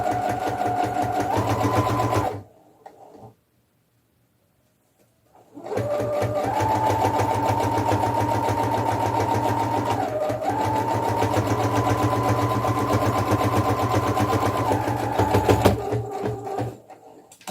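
Sewing machine backstitching a rag doll's pajamas, running in steady loud bursts with a short pause of silence before stitching resumes for a longer continuous run.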